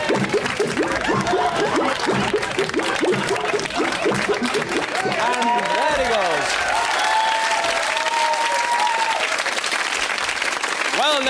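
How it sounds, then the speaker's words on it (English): A studio audience at a comedy variety show bursts into loud, sustained applause for a comedy act, dense clapping with scattered whoops and laughter, while a voice speaks over it. "a big round of applause for Mr."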